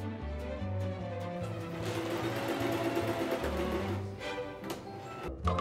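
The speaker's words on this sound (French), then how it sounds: "faites quelques points dans la marge de couture pour maintenir la poche en place." A sewing machine stitches a pocket into the seam allowance of a chino trouser at the waistband, running steadily and close for the whole stretch with a rhythmic mechanical whir and brief pauses near the end.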